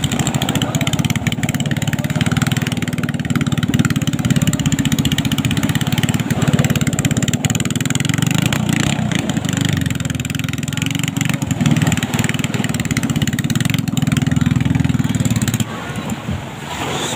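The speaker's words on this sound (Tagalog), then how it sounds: "kung okay na yung mga makina nila" Several outboard-style boat engines run continuously at a bancathon boat race in Naujan, Oriental Mindoro, making a loud, steady droning roar that dips slightly near the end, with faint voices beneath.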